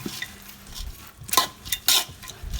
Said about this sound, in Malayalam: അതിലിങ്ങനെ വെച്ചുകൊണ്ട് ഇടയ്ക്കിടയ്ക്കൊന്ന് ഇങ്ങനെ ഇളക്കി കൊടുത്താൽ മതി